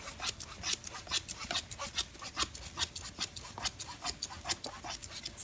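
Scissors point cutting into a woman's hair held against a comb during a bob haircut, a rapid close run of crisp snipping and rasping cuts repeating several times per second.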